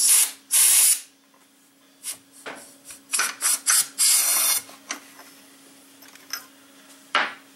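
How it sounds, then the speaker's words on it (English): Short bursts of compressed air blown into a shock absorber body through a rag to push out the floating piston, several loud hissing blasts of varying length with mechanical clicks and clunks between them, close and alone. "A bit of compressed air is good. Use a rag over the top to protect your hands. And give it a little bit of air."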